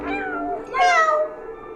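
A small kitten in a cat video game meows twice, a soft mew followed by a louder, higher, drawn-out cry, close and clear with no talking.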